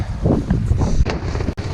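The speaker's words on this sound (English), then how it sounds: "It's pretty windy out here." Strong wind gusts buffet the microphone outdoors at a lakeside campsite, a loud continuous rumbling roar with brief surges and one sharp dropout near the end.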